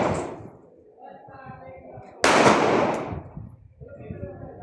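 New toy gun fired in a few sharp bursts, one loud crack standing out, with people talking between the shots.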